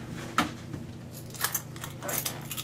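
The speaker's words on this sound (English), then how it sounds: "I'm literally gonna take my keys out of the door," Keys jangle and clink in a few short bursts as they are pulled from a door lock, fairly close with quiet gaps between the rattles.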